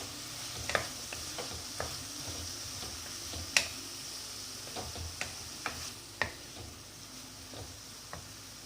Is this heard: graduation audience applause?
no